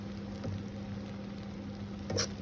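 Chicken fried rice stirred and mixed in a hot pan gives a steady low sizzle with a few soft scraping clicks, fairly quiet and alone.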